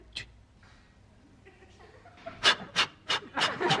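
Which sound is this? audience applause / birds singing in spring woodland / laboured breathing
laboured breathing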